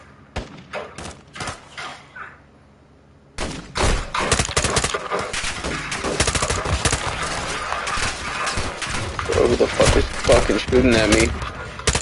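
Gunfire in the video game Call of Duty: Modern Warfare 2, a few sharp separate shots followed by a brief lull, then dense rapid bursts of loud firing mixed with other battle noise.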